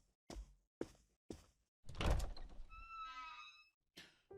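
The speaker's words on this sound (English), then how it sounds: "My eyes snap open to the sound of knocking." Three evenly spaced knocks on a door in a video game, crisp and close, followed by a heavier thud and a rushing swell with a faint tonal whine trailing off.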